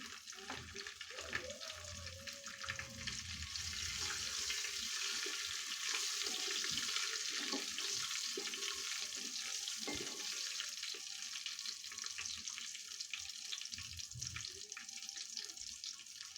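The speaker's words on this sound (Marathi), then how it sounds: "आलं लसूण थोडंसं परतलं की त्याच्यामध्ये आता दो दोन चिरलेल्या मिरच्या आहेत ते घालते" Chopped green chillies fry with ginger and garlic in a pan for masala rice, a low steady sizzle with occasional soft clinks and stirring. The sound is quiet and even, with a faint murmur of voice at the start.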